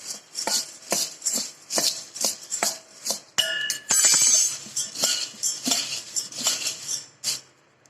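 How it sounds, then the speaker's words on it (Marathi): Dry ingredients for masala bhel, including chaat papdi, being mixed in a bowl with salt, chilli and black masala, giving a run of close, rhythmic clinks and rattles with no talk. "आता हे ना सुकं सगळं मिक्स करून घ्यायचं"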